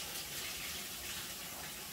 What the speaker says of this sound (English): I'm going to add some hot water to it, get it stirred up, pour it in there.